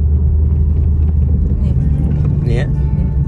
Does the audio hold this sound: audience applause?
no